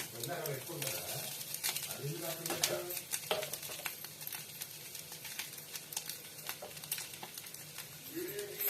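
Carrot, eggs and rice fry and sizzle in a pan with crackling, patter and stirring scrapes, while someone talks over it.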